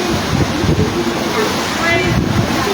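Super typhoon storm surge in Catanduanes brings a constant roar of wind buffeting the microphone and churning waves, loud and continuous throughout.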